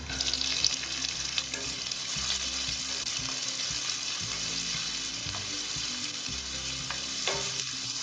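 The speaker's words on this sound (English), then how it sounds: "Now I'm going to add in about 1/4 cup of onions." Onions frying in hot oil with cumin, chili flakes and green chilies give a dense, constant sizzle, with occasional soft stirring scrapes. Close and steady, with no voices.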